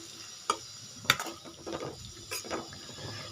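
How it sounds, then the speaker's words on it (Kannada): Sauces frying in a pan for fried rice, with a soft sizzle and a few sharp clinks of a spatula or spoon against the pan, scraping and stirring close by, no talk. "ಇದು ಒಂದು ಸ್ವಲ್ಪ ಫ್ರೈ ಮಾಡ್ಕೊತೀನಿ"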